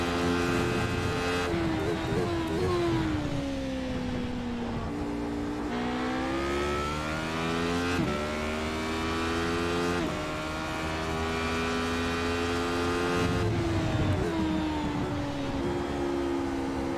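Race car engine on a practice run, droning steadily for the whole stretch with repeated rising and falling pitch sweeps as it accelerates and shifts through gears, loud and continuous with no talking.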